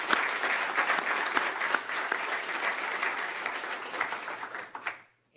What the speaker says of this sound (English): And I just ask you to give one more round of applause for all of them.